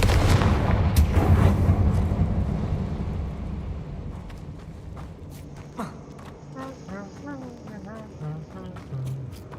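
A Confringo explosive spell bursts in the Hogwarts Legacy video game, a loud booming blast with rumbling debris that decays over several seconds, followed by quieter game sounds and faint musical tones.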